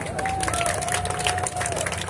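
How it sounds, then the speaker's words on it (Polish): Crowd applause at the Rajd Nyski 2024 rally awards podium ceremony, a dense, steady wash of clapping and cheering that fills the whole moment, with a thin sustained tone running underneath. "Najgrodzki, wielkie brawa!"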